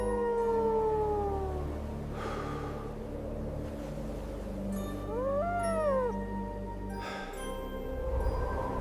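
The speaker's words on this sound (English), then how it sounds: "Somewhere beyond the whiteout, another wolf was calling." A wolf howls in long rising and falling cries, several overlapping, over a low windy rumble; the calls sound moderately distant.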